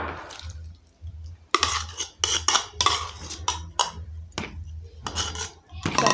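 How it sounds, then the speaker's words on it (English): Eggs being whisked for a Spanish omelette, with a utensil clattering quickly against a bowl in close bursts separated by short pauses. "So for that, I'm just going to whisk."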